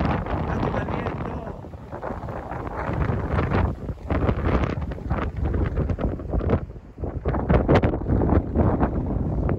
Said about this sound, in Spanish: Lástima el viento.